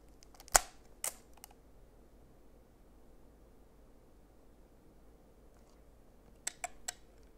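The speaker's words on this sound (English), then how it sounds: "It has some kind of clicking noise inside, which is not supposed to happen." A few sharp mechanical clicks from inside a Sony HandyCam FDR-AX53 4K camcorder, a faulty noise, a cluster near the start and another near the end, separated by quiet hiss.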